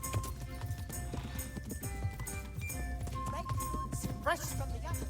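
Horse riding in the video game Kingdom Come: Deliverance II, with rhythmic hoof clip-clops and a whinny under game music and a talking voice throughout.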